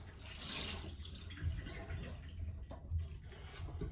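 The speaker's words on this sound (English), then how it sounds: "Let me wash my hands real quick" Hands are washed under a running kitchen tap while baking a pistachio cake, with a steady splashing stream that rises and falls as the hands move through the water.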